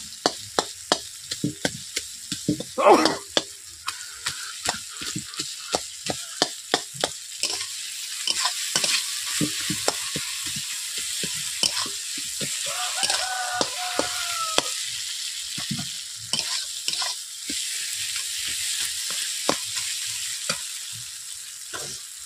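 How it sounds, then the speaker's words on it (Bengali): Rohu fish heads fry in oil in a wok while a spatula repeatedly scrapes and strikes the pan, breaking them up. Steady sizzling runs under the rhythmic metallic clacks throughout. "এরপর মাছের মাথাগুলো দিয়ে দিচ্ছি। এরপর খুঁটি দিয়ে এইভাবে আমি কুচি কুচি করে দিচ্ছি মাছের মাথাগুলোকে।"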